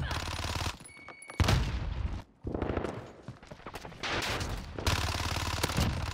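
Gunfire from the Fennec submachine gun in the video game Modern Warfare rattles out in loud, rapid automatic bursts, broken by a brief pause, with voices faintly mixed in.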